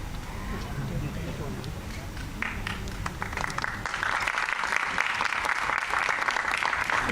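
An audience at a Gandhi Jayanti honour ceremony in Jodhpur applauds, a dense, sustained wash of clapping that swells louder partway through, with a speaker's voice underneath at first.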